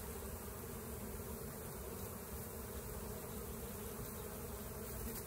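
Honey bees buzzing steadily around hives during honey extraction, a continuous dense hum of many insects at moderate distance, with no talk.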